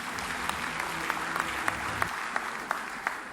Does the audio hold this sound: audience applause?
yes